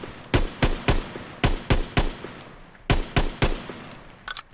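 Rifle gunfire in Call of Duty, a Polish two-shot rifle: sharp loud shots fired in quick pairs and short bursts, about a dozen reports with brief pauses between groups, with no voices.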